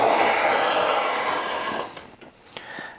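A steel card scraper drags across rough-cut oak, a bright rasping shave for about two seconds that then tapers off into a few lighter scraping strokes.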